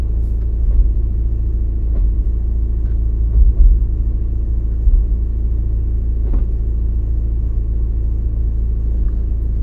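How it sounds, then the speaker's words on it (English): An Audi with an S-Tronic DL501 transmission drives along, a loud low road rumble with faint engine tone and brief bumps as it shifts through the gears, no talking. "I'm gonna be staying quiet so you can hear how it shifts through the gears."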